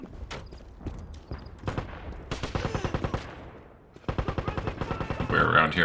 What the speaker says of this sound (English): I like hearing that gun fire